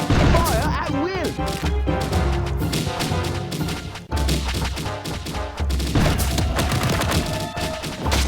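Rapid musket gunfire from towers in the strategy game Kingdom Rush, a loud continuous volley of cracks and booms layered with battle effects and shouted voice lines.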